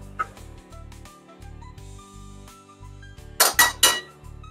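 Ratatouille with chopped tomatoes being stirred in a pot, a spoon clinking against the sides in a few sharp strokes near the end over a low steady hum, close and otherwise quiet.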